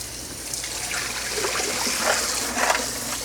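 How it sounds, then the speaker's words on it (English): Very hot tap water pours steadily over metal jar lids in a sink, a continuous splashing trickle with brighter spattering bursts, close and moderately loud with no talking. "I want to rinse them in really hot water, tap water."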